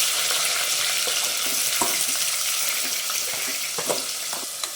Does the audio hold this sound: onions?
yes